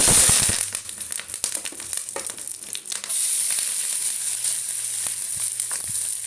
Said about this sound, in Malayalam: നമുക്കിത് ഇളക്കി ചുട്ടെടുക്കാം